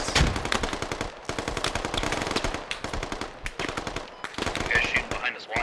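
Intense firefight in the Squad video game, with insurgents and British forces trading dense automatic rifle and machine-gun bursts in rapid overlapping volleys, loud and continuous with only brief pauses.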